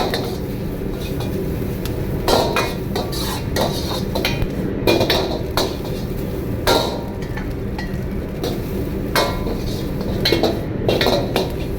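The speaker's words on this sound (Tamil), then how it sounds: "கொஞ்சம் ஸ்ப்ரிங் ஆனியன் போட்டுக்கலாம். கொஞ்சம் வதங்கணும்." Vegetables and spring onion sautéing in a pan for prawn noodles, with steady clinks and scrapes of a utensil stirring against the metal over a low sizzle, no talking.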